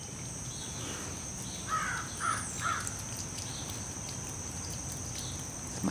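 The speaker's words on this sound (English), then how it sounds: "The crow cawing in the background." A crow caws three times at a distance in a garden, short harsh calls over a steady outdoor hiss with a faint high tonal hum.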